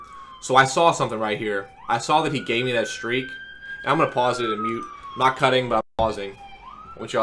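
Police sirens wail outside in Baltimore, a sustained rising-and-falling tone running faintly underneath continuous close talking.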